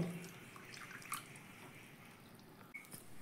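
One bowl of water is poured onto semolina in a mixing jar, giving a brief, soft splash and trickle that fades quickly in a quiet kitchen.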